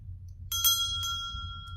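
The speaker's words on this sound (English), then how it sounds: "I'm going to ring the bell" A bell rung during a new moon solar eclipse ritual gives a few bright metallic strikes followed by a clear, sustained ringing tone, close by, over a low steady background hum.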